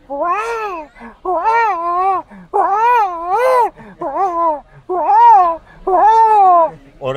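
A person imitates a baby crying, with a series of wavering wails and sobbing cries in quick succession, loud and near.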